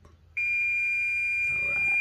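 Kitchen timer going off while a ham wrap cooks, a sudden loud continuous electronic beep tone starting abruptly after a quiet moment and holding steady, with faint kitchen clatter underneath.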